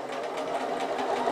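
A sewing machine running a short back stitch on fabric for an origami bag, a fast, even mechanical whirring rattle, close and steady for just over a second, with no talking.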